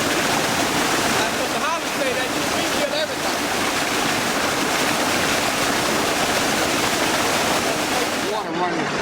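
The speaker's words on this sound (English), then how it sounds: "water running fast and running" Fast-moving water rushes at a wastewater plant, a loud, dense and unbroken roar that fills the whole span, with a few faint voices buried beneath it.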